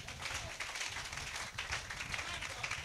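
A church congregation claps in acclamation to the Lord during a Christian exhortation, a faint, continuous wash of hand clapping heard from a distance, with voices mixed in.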